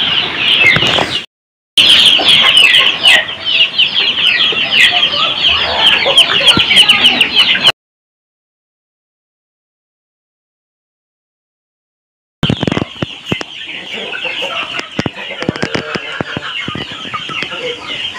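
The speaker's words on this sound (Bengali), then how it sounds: "আপনারা এতক্ষণ ধরে মুরগির বাচ্চাগুলো দেখলেন" Hens and chicks cluck and cheep close by in a dense, busy chorus, broken once by a few seconds of silence before the clucking resumes just as loud.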